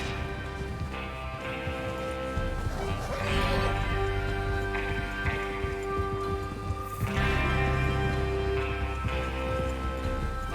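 Horses whinny and snort in the video game Red Dead Redemption 2 over a steady musical backdrop, with a muffled rhythm of hooves and movement throughout.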